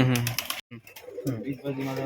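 Close cooing of a Kalshira fancy pigeon, throaty and rolling, in short bursts separated by a brief gap, loud and near.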